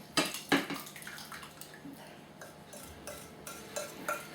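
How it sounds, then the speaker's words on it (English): Wet blackberry cobbler mixture is poured from a bowl into a baking dish. A couple of clanks of the bowl come first, then soft, sloshing pours and drips, close and quiet. "Pour it in this bake dish,"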